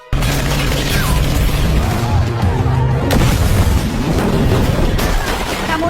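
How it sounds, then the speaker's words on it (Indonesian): Film gunfire in a dense action scene: loud, booming shots and crashes pile up continuously with little pause, thick with low-end impact and mixed under other soundtrack noise. "Sesampainya di sana, Smith langsung diberondong tembakan oleh anak buah Loris."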